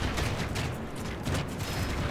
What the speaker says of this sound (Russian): Все, пошла стрельба.